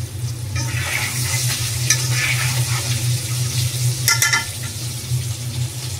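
Fried meat pieces for a roast being stirred and turned in spice paste in a pan, a steady close sizzle broken by scraping, clattering stirring strokes, with no talking.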